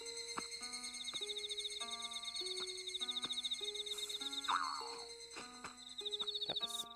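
Crickets in the Animal Crossing: New Leaf museum, a steady rhythmic electronic chirping layered over a soft plucked background melody, with a short rising chime partway through.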